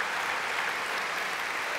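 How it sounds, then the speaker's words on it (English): Audience applause at a live Sydney Opera House conversation event, a broad, even roar of clapping from a large crowd, sustained and uninterrupted. "That's worthy of applause"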